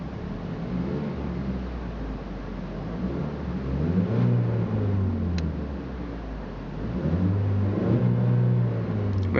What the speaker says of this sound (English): I'll give you a quick rev.